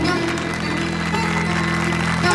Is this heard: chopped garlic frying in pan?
no